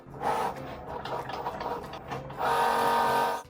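A Cricut Joy Xtra cutting machine slicing Astro Bot sticker designs, with a steady mechanical whir and buzzing, short stuttering motor movements in the middle, then a longer sustained whine before stopping.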